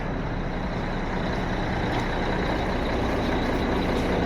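Semi truck engine idling at steady volume while warming up and building air pressure, a continuous broadband rumble with no talk.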